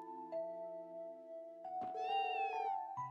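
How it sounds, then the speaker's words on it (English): A stray cat meows in the video game Trails from Zero, one clear rising-falling meow over steady game music tones, with no talk. "Talking to a stray cat."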